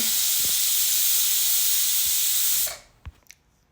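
A pressure cooker cooking mutton lets off a loud, sustained steam hiss for a few seconds, then cuts off abruptly, followed by a couple of faint clicks nearby.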